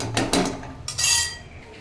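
Ground tomato paste being stirred in a cooking pan: close, loud bursts of a metal spoon scraping and clattering against the pan in quick strokes, with no talking.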